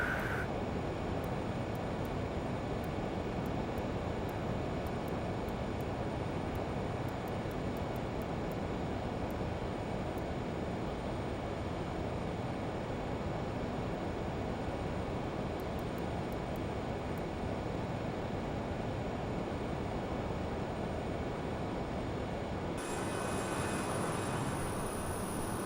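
Learjet 35A engines in Microsoft Flight Simulator give a steady, even cockpit roar with a high whine on top, constant for the whole stretch, with a faint change near the end.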